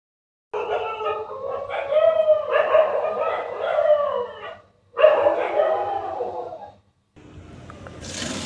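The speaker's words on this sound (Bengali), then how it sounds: "হঠাৎ করেই মধ্যরাতে কুকুর ডেকে উঠলো" Dogs bark and howl at midnight in a neighbourhood, close and loud, in two long bursts of drawn-out howling yips with a short pause between them and a brief quieter stretch at the end.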